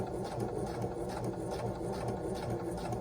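Sewing machine stitching fabric for a patchwork pillow, a steady close motor hum with a fast, even mechanical rhythm running throughout at moderate volume, with no talk.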